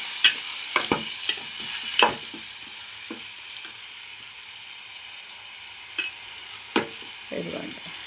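Onion peels frying in hot oil in a pan while cooking a banana flower curry, with a steady low sizzle broken by scattered stirring scrapes and clicks, no talking.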